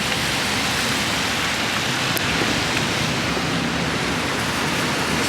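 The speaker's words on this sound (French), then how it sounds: "il pleut de ouf" Heavy rain pours down on a street in Paris, a dense, loud and constant hiss with no talking.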